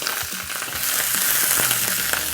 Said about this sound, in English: All right, put the oil in, broccoli in. I want my spring onion in there too.